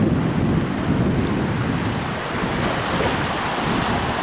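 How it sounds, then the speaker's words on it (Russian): Small sea waves on the Riga seaside beach, a continuous loud surf wash blended with wind rumble against the microphone, steady and unbroken with no voices. "На море небольшие волны."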